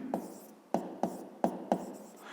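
Chalk or pen strikes a board in a fifth-grade math lesson, leaving five or six short scratchy taps at an uneven pace, close and distinct against a quiet room.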